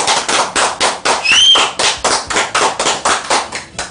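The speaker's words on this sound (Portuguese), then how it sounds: "uma salva de palmas para Juscelio Carmo nesse estúdio" Loud, close hand clapping in a radio studio, a few people clapping in quick, uneven bursts for a guest, with a brief whistle-like tone partway through.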